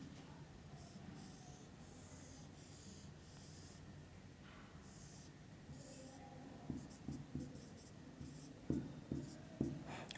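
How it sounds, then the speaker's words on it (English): Pen or marker writing a K map by hand: faint, steady scratching strokes in quiet bursts, with soft tapping near the end. "I will just write this K map here"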